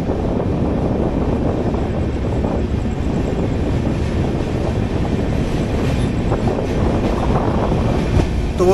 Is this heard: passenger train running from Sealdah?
yes